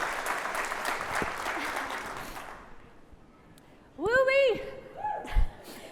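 An audience applauds to welcome an Olympic gold medalist gymnast onto a conference stage, warm clapping filling the first half before fading out, followed by a voice speaking over the quiet room.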